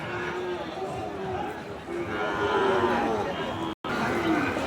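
Sahiwal cattle moo at a busy cattle market, drawn-out lowing calls rising over a constant bed of crowd chatter and nearby voices.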